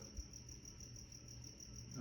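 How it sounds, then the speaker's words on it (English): A cricket chirps steadily indoors close to outside, a faint high continuous pulsing trill over a quiet room background. "what is that, a cricket?"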